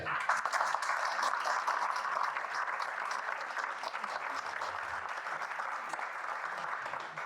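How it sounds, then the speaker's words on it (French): An audience at a fundraising gala for AGEFAA claps in a steady, dense wave of applause lasting several seconds, moderately loud and even throughout, with no voices standing out. "On peut l'applaudir"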